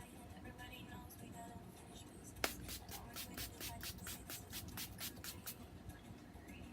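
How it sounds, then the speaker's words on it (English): Rapid bursts of Elf Matte Magic Mist and Set setting spray misted onto a face, about a dozen short sharp hisses in quick rhythmic succession after a faint click, close and fairly soft. "right now I'm using Elf's matte setting spray"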